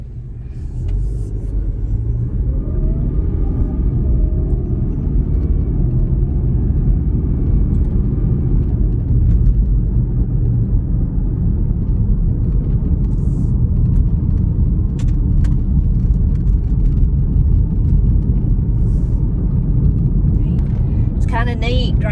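Steady low road rumble from inside a moving car, a continuous engine and tire drone throughout with people talking over it.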